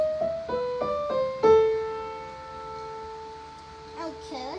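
A piano plays a short rising run of single notes that settles on a held tone, the opening phrase of Für Elise, followed by quiet room sound and a faint voice near the end.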